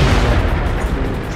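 A tank cannon fires in a World of Tanks esports finals match, giving a loud, broadband boom with a heavy low rumble that fills the short moment.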